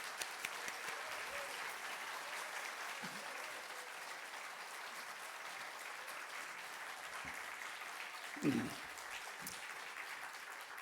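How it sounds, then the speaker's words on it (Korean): A church lecture audience applauds to welcome the next speaker, a steady, fairly quiet wash of clapping throughout with a faint voice underneath and a brief louder knock near the end. "박수로 맞아 주시면 고맙겠습니다"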